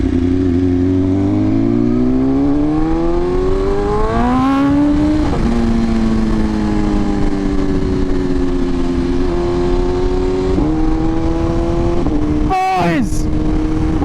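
A 2023 BMW S1000RR sport motorcycle screams loud and close as it accelerates through a wheelie, its pitch climbing through several gear shifts with brief dips between them, under constant wind rush from the ride.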